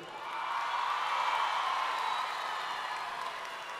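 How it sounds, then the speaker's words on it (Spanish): A crowd at a cumbia music festival applauds and cheers for a performer being introduced, a distant, diffuse roar of clapping that swells and holds steady, fairly faint. "Y quiero que reviente la gente en aplauso"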